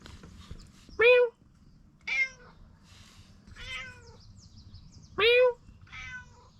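A pet cat meows close by, with four or five distinct drawn-out calls spaced across a quiet garage setting during a car frame restoration, while a low hum runs underneath.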